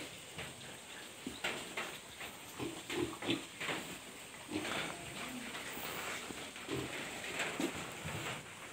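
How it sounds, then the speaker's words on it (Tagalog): Pigs on a small backyard farm grunt in short repeated bursts, with the grunting rising and falling against a steady hum of background noise. "Sarap kaya nitong baboy."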